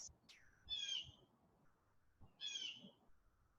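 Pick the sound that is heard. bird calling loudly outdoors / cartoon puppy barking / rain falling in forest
bird calling loudly outdoors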